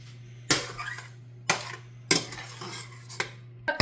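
Béchamel, sauce and minced meat are spooned into a lasagna dish, with sharp spoon clinks and scrapes against the dish in four or five separate bursts over a low steady hum.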